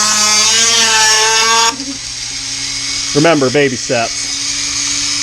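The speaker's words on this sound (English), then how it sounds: "trusty dusty easy cut wheels on Dremel" A Dremel fitted with an easy-cut cut-off wheel whines steadily at high pitch while cutting a part for a Phil Thomas round nose Karleson build, then stops abruptly, leaving a low hum as a voice speaks briefly.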